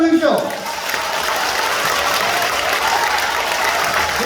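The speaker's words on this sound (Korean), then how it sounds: "여러분 박수 한번 주십시오" Sustained audience applause at a political party members' lecture in Gumi, South Korea, a dense wash of clapping from a large crowd that swells quickly and holds steady throughout.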